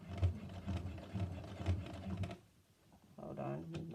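Sewing machine stitching a homemade fabric face mask with a filter, running in quick repeated bursts for about two seconds, pausing, then starting again; a fairly close, steady mechanical patter.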